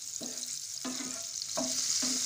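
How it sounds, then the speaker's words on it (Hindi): Garlic, ginger and green chili frying in butter in a pan for a few seconds, with a steady bright sizzle broken by several soft scraping stirs of a spoon, close and without talk. "कुछ सेकंड के लिए लहसुन अदरक मिर्च को हम फ्राई कर लेंगे।"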